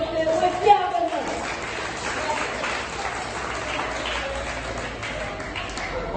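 Sustained audience applause at an award ceremony for a Haitian dictation contest, dense steady clapping from a sizeable crowd that rises just after a brief opening voice and carries on evenly to the end.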